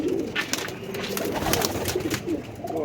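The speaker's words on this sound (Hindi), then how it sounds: "गोल्डन कबूतर है पुराना" An old golden pigeon gives a string of low, rolling coos, soft and close, repeating rhythmically over a few seconds with faint background noise.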